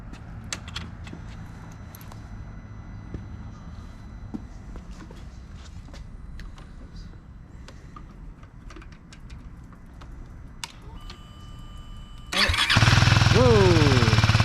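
A KTM Duke 390 single-cylinder motorcycle engine fires up after a long quiet stretch of scattered clicks and faint voices, then runs and revs loudly and close for the final couple of seconds.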